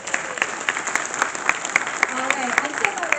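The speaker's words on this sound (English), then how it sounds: "Everyone, one more round of applause for that." An audience applauds steadily at an evening event with astronauts, a dense wash of many hands clapping close and loud, with faint voices and cheers mixed into the crowd noise.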